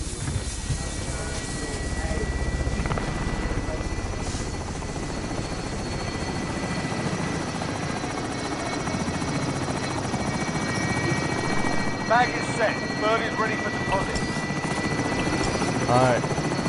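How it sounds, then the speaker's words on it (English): Steady rotor thump and turbine whine of a helicopter in Call of Duty: Modern Warfare Plunder mode, loud and continuous throughout, with short radio-style voice chatter near the end. "I just got into a helicopter."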